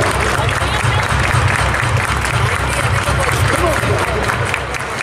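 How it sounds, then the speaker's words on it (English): A crowd at a minor-league baseball game claps along in the stands, steady rhythmic clapping mixed with crowd noise and nearby voices. "Everybody clap your hands."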